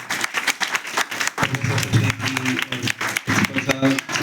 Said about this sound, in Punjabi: ਜ਼ੋਰਦਾਰ ਤਾੜੀਆਂ ਦੇ ਨਾਲ